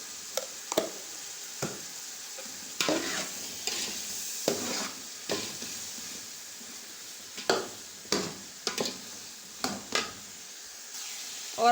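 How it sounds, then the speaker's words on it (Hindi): Vegetables for biryani, salted and cooking down in a pan, are stirred with repeated scraping strokes over a steady frying sizzle, the spoon hits coming in irregular bursts with no talking. "अब हम सब्जियों का पानी खुश्क करने तक इनको पकाएंगे।"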